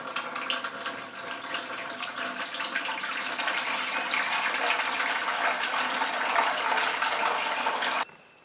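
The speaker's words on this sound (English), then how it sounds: "what I'll do is drain my brew pot into my fermentation bucket" Beer wort for a small rye beer drains from a brew pot into a fermentation bucket, a continuous rushing, splashing pour that grows fuller and then cuts off abruptly near the end.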